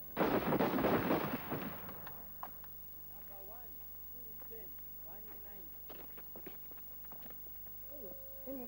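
Rifle fire from a volley at a firing command, one loud booming burst of shots up front that dies away, followed by quieter shouted voices and footsteps.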